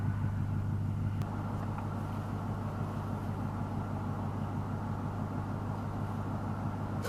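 Lexus LS400 sedan in VIP style driving along steadily on the way to a shop, a low continuous engine and road rumble heard from inside the cabin, even and unbroken for the whole stretch.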